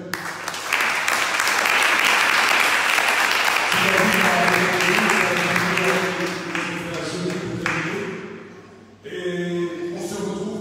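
A church congregation claps loudly in a dense, sustained burst of applause that later thins out, with a voice speaking over it and singing-like tones rising beneath.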